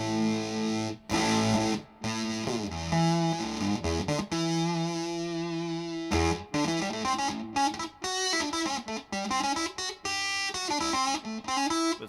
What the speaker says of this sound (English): really sort of abrasive and honking and vocal mid-range type tones